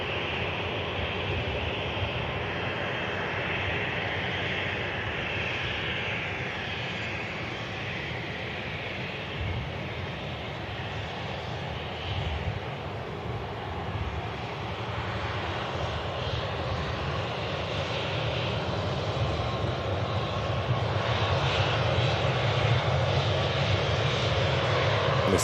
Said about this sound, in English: Elliot said he's on the Singapore that's taxiing out now